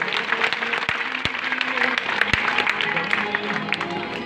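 Applause for devotees at a Bhagwat katha gathering in Hari Nagar, Sector 10, Gurugram: a dense, steady wash of crowd clapping lasting a few seconds, moderately loud, with a few sharp individual claps and some music or voices faintly underneath.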